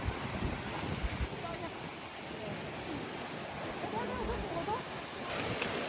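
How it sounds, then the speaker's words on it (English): Steady broadband rush of a large main waterfall among three falls, a continuous roar blended with wind buffeting the microphone, loud and constant throughout. "There's actually 3 waterfalls here, but obviously this is the main one."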